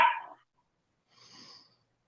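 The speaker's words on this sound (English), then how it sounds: "The dogs are finished with their nap" Dogs at home, just up from a nap, give two short barks split by a pause of about a second: a brighter first bark, then a softer, quieter second one, both fairly faint.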